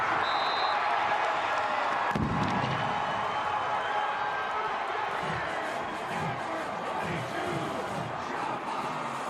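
A stadium crowd in Clarksville roars and cheers at an NCAA FCS playoff football game between Chattanooga and Austin Peay, a broad sustained swell of voices under a commentator's talking.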